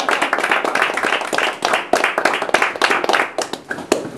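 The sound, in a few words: audience applause at a real estate talk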